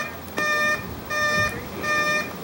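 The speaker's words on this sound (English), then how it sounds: "That noise you hear in the background is a car alarm going off." A car alarm near a harbor blares in repeating electronic bursts, three evenly spaced pulses of shrill tones, heard from some distance over background noise.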